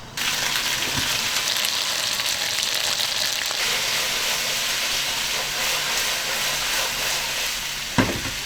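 A 220-yuan tomahawk steak sizzles steadily and loudly in a frying pan, a continuous close hiss of hot fat with a brief clatter near the end and no voices.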